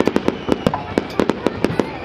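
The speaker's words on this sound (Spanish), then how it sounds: "Estos son los fuegos artificiales para brillar." New Year fireworks in Frutillar, sharp explosive bangs popping in a rapid irregular series of about a dozen reports, loud and fairly close.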